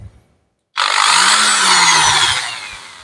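A variable-speed electric drill powered through a 150W portable power inverter starts abruptly after a short silence and runs at a steady, loud, high-pitched whine, not at full speed, with no talking.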